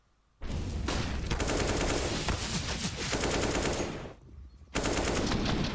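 Rapid automatic gunfire in a Counter-Strike match on Inferno, dense sustained bursts of shots with brief pauses between volleys, loud and close.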